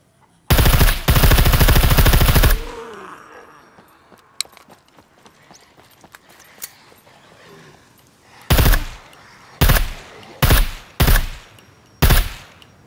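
Gunfire in the video game Scum: a long loud automatic burst opens, followed by scattered faint clicks and clatter, then five separate heavy shots spaced about a second apart.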